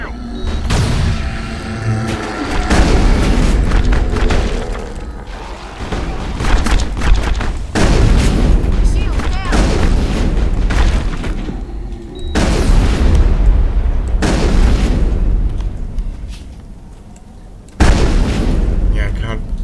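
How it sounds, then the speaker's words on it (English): Repeated heavy booms of grenade explosions in the Mass Effect video game, several loud blasts spread across the clip amid ongoing combat noise, with voices talking over the action. "Wait, grenades. Fire explosives."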